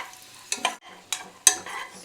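Cashews and raisins frying in oil in a pan for festival prasadam, three short bursts of stirring scrapes with light sizzle between them, close and moderately loud.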